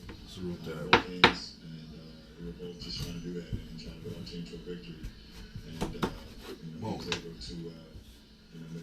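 A knife cuts a rough vegetable in half on a kitchen board, giving a few sharp knocks and scraping clatters among soft handling noises, with someone talking over them.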